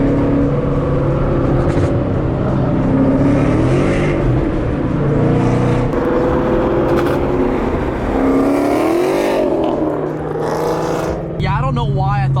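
A 2013 Mustang roars close and loud as it accelerates hard in second gear, the engine note climbing and wavering for several seconds before easing off, with a voice speaking briefly at the end.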